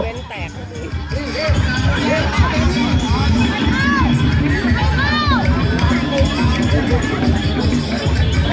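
School crowd cheering at a match between Matthayom 4 and Matthayom 8 teams, a dense, steady roar of many young voices with shouts and whistles throughout, a commentator talking over it.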